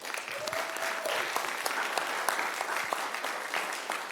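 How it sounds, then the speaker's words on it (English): Steady round of applause from attendees at a city commission meeting honoring a local salon, a continuous moderate wash of clapping with a faint tonal whistle near the start. "And so can we please give them a round of applause, please?"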